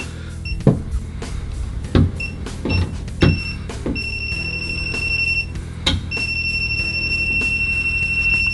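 Kaiweets KM312B multimeter gives high, steady electronic beeps in repeated bursts as its non-contact voltage alert responds near a light switch, alongside soft clicks and handling knocks.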